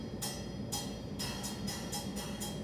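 A brush strikes the cup of a cymbal about six times in a steady rhythm, each hit a bright, washy shimmer over a low background rumble.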